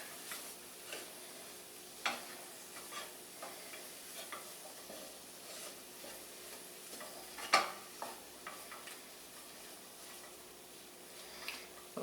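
Chili peppers sizzle in a hot pan with butter, a steady soft crackle with scattered pops and light utensil taps over twelve seconds, one sharper clack near the middle.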